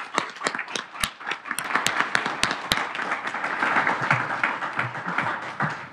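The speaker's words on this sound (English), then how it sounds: "Maybe just a round of applause for all of them." A round of applause for speakers and participants at an open science conference session on reforming scientific publishing, building from scattered sharp claps into steady, dense clapping that holds for several seconds.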